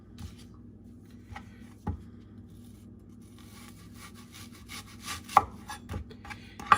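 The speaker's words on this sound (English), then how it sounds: "let's get started with chopping our vegetables" Vegetables for a Persian Shirazi salad of cucumber, tomato and onion chopped finely with a knife on a cutting board, heard as quiet scattered knocks and scraping strokes with a few sharper hits, no voices.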